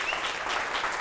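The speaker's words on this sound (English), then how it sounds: "let's give one more round of applause for our sponsors." Audience applause for event sponsors comes as a short burst of steady, evenly dense clapping from a conference crowd.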